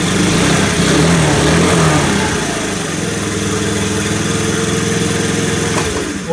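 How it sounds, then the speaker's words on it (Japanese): A Honda Today AF61 scooter engine sputters to life in a motorcycle shop and revs loudly, then settles into a steady, buzzing idle nearby. "さあエンジン始動。"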